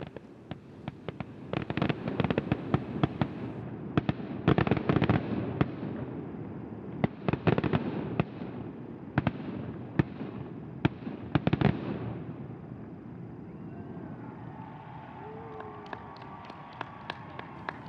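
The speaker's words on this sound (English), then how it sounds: "We watched the fireworks from the house, actually." Fireworks pop and crackle from about half a mile away in irregular bursts, dense at first and then thinning out to scattered bangs.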